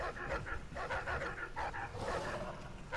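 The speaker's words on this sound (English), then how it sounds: "I hate dogs barking like that." Dogs in the video game Dishonored 2 make a continuous run of rough, yappy barks and whines at moderate distance, under a steady background game ambience.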